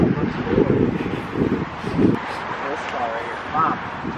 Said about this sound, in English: Hopefully you guys can hear me because it's really windy out here.